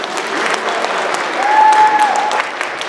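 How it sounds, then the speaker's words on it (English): Students and guests at a school Veterans Day assembly applaud the choir, full loud clapping that swells in the middle, with a brief tonal whistle or squeak rising over the crowd noise. "let's give them one more round of applause"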